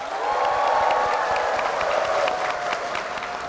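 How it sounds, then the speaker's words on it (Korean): Korean church congregation gives a vigorous round of applause for the senior pastor and the church, loud continuous clapping from a crowd with faint cheering mixed in. "우리 담임 목사님과 교회를 위해서 힘찬 박수 부탁드리겠습니다"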